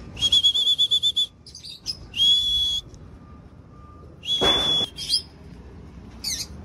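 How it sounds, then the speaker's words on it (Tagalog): A bird gives sharp, high whistling calls, first a quick run of pulsed notes, then separate bursts with pauses between them, clear and fairly close. "Isa pa tayong ibon sa labas o pasaway o."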